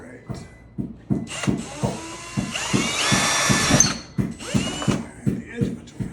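A power drill boring into the edge of a wooden joist, with repeated short bursts of whirring and a rhythmic ratcheting clatter, then one longer high-speed run, close and loud, with people talking between the bursts.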